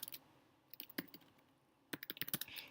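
Keystrokes on a computer keyboard, close and fairly quiet, arriving in short irregular bursts of clicks separated by a pause.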